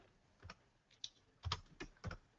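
Someone types on a computer keyboard, a handful of quiet, separate key clicks in an uneven rhythm, close by in an otherwise quiet room.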